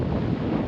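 Strong wind buffets the microphone in a steady, broadband roar at a seaside spot beside a rough, choppy sea.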